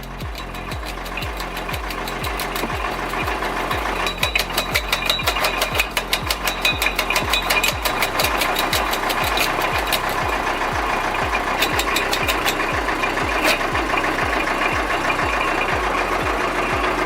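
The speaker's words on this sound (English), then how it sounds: "This homemade chipper uses a rotating drum to process wood." A homemade drum-type wood chipper runs with a loud, continuous engine drone, its rotating drum chewing wood in rapid, rhythmic knocks and thuds that pulse steadily at close range.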